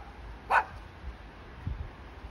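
A large dog gives a single short bark at a moderate distance over quiet outdoor background noise.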